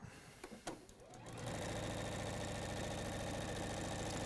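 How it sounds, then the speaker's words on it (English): A sewing machine top stitches a seam on a swing jacket, starting after a few soft handling clicks and then running at fast, steady speed with a continuous, close mechanical hum. "I'll top stitch those just so you can see"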